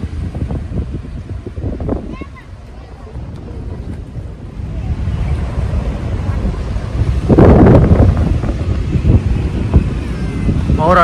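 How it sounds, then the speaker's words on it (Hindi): Wind on Male island in the Maldives buffets the microphone in strong, continuous rumbling gusts near an artificial beach and park, swelling louder midway, with some voices faintly mixed under the roar. "ठंडी हवा चल रही है।"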